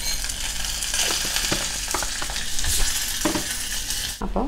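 Hot fried mustard seed tempering hits bitter gourd kichadi curry with a loud, continuous crackling sizzle, accompanied by a few scraping stirs near the end.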